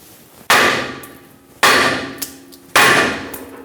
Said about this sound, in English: let's tap it with a large hammer right here